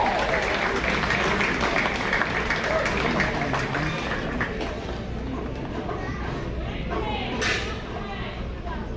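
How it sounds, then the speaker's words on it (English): Audience applause at a county fair 4-H/FFA beef show rolls on steadily, moderately loud, with a busy arena crowd and a voice on the sound system mixed in. "More round of applause."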